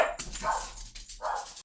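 Dogs bark close by in a short burst of several sharp, yappy barks with brief gaps between them, loud and clear with no talking.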